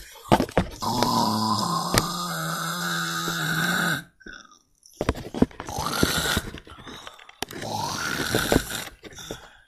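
Loud, rasping snores in long drawn-out bursts, a voice imitating snoring for a Playmobil reality-show parody, with one long snore, a brief gap, then two more rough, grunting snores close up.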